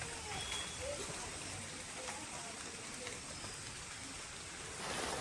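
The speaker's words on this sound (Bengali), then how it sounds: "জোর বৃষ্টি নেমে গেছে।" Heavy rain falls steadily outdoors on a morning, making a faint, even wash of patter with no break.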